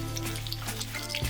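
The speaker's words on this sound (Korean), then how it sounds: "그리고 소스에 점성이 생길 때까지 끓여줍니다." A pan of spicy tomato pasta sauce with mussels and crushed chili simmers steadily, giving a close, continuous sizzling bubble with a low hum underneath and a brief clatter at the end, no voices.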